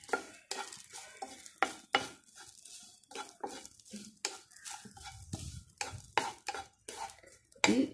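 Spices with broken black pepper dry-roast in a pan until light brown, stirred with a utensil that scrapes and clinks in an uneven rhythm of close, distinct strokes over a faint background sizzle.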